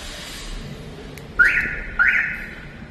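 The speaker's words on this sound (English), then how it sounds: "I made them link up the central lock-in and also fit an alarm to it" A car alarm on a 1991 Toyota Land Cruiser gives two short rising electronic chirps about half a second apart, clear and fairly close, over faint background hiss.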